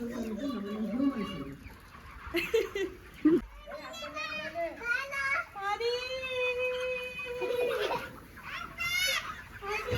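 On a poultry farm, chickens cluck and call throughout while children talk and play loudly nearby, their voices often over the birds.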